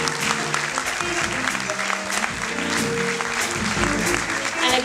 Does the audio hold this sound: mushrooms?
no